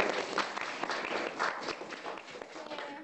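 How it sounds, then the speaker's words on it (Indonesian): A school student council campaign audience claps and cheers continuously, a dense, noisy patter of many hands with some voices mixed in. "Tepuk tangan dulu dong ini."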